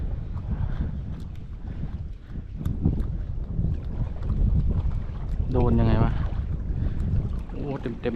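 Steady wind roars across a boat on open water, with a brief electronic chirp partway through and faint voices nearby.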